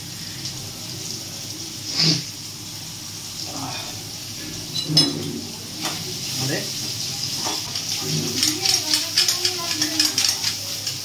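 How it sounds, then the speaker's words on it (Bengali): Onions and vegetables fry over a high flame for a white sauce pasta, giving a soft, continuous sizzle and hiss with occasional stirring scrapes. The sizzle grows busier toward the end. "পেঁয়াজ মানে সবজি ভাজা হচ্ছে হাই ফ্লেমে"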